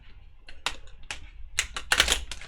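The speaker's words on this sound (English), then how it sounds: "Oh, see, this deck does not really want to shuffle today." A tarot deck is shuffled in quick bursts, crisp riffling and card slaps coming in several short clusters up close, with quiet gaps between them and no talk.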